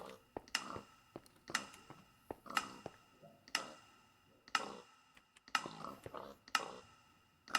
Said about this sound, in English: this is just a dispenser, a redstone clock.